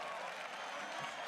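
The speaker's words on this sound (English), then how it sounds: "The crowd cheers for Peke." Crowd cheering and applause in an esports arena for the player Peke, a brief, continuous, distant-sounding roar of many voices and claps.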